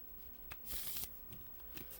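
A quick burst of cards being riffled and shuffled, close and fairly loud, with faint handling noise before and after.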